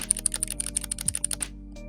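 Typing on a custom mechanical keyboard with clicky switches, a quick run of about fifteen crisp, sharp clicks close up, stopping abruptly after about a second and a half.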